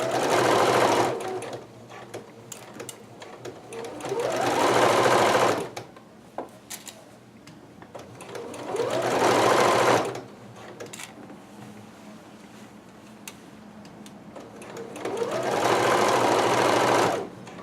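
A sewing machine stitches large cotton kimono pieces in three long bursts of rapid whirring, each a few seconds long, separated by quieter pauses with fabric handling and small clicks.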